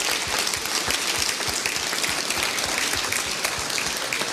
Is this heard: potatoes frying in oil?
no